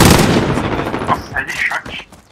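Rapid gunfire in a shooting video game, loud close bursts of shots that thin out into scattered game effects near the end, with a voice talking underneath.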